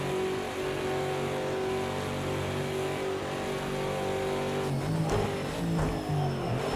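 Ford race car engine running at high speed in sixth gear down the Daytona backstretch, a loud steady onboard drone with shifting pitch, not talk.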